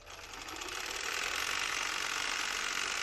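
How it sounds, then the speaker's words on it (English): Noisy 1953 coronation film camera running, a dense rapid ratcheting mechanical clatter that starts up and settles into a steady, loud, continuous whir. "The noise of this camera was such that you had to be in a soundproof box."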